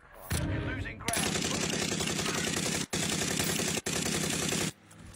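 Gunfire in a video game, dense sustained automatic bursts that are loud and continuous, with two brief breaks, then a sudden stop.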